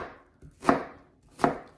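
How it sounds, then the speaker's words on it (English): A knife chops through an onion on a cutting board, two distinct sharp strokes spaced under a second apart, close and clear with no talking. "you cry when you're cutting an onion"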